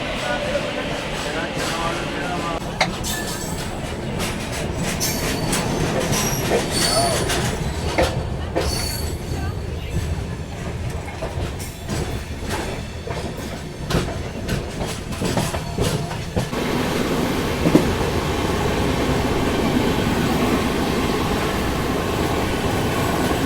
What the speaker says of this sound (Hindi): अभी अपनी ट्रेन निकल रही है विजयवाड़ा जंक्शन से